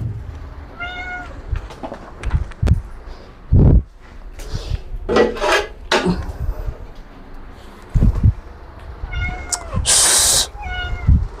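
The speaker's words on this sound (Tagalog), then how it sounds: "Yung pusa ko, kinulong ko muna kay makulit man." A pet cat shut away indoors meows loudly and close by, letting out several separate cries with bumps and rustling between them and one long, harsh yowl near the end.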